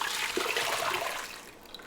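Hot champurrado made with cinnamon and chocolate is poured through a strainer into a pot, making a close, continuous liquid splashing and trickling that tapers off toward the end.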